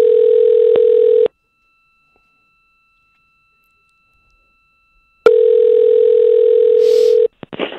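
Telephone dial tone plays loud and steady, with a click mid-tone, cuts out into silence for about four seconds, then returns with a click before stopping amid faint rustle.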